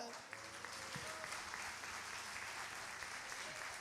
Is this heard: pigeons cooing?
no